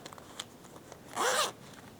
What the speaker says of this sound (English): When I open the zipper up,